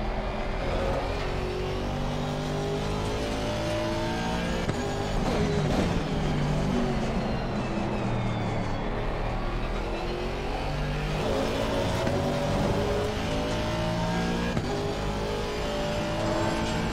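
Race cars, a BMW among them, roar through a sim-racing league round at Paul Ricard, engines droning and shifting in dense overlapping layers, steady and loud throughout with no break in the noise.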